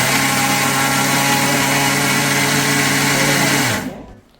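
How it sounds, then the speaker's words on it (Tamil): A kitchen mixer grinder jar pulverizes homemade malt ingredients into powder, a steady, loud, high-pitched motor whir running close by before abruptly cutting off near the end. "அதுக்கப்புறம் மிக்சி ஜாரில் நம்ம பவுடரு பண்ணிக்கணும்"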